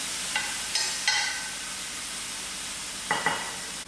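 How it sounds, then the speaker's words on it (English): Grated tomatoes cook in a pot for rasam with a soft, low simmering hiss, broken by a few brief scraping stirs at the start and near the end. "Grated tomatoes, and allow it to cook for about 5 minutes."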